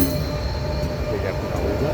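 The last train of the day pulls into Puigcerdà station, a close, continuous rumble of railcars with faint wheel squeal over the steady roar.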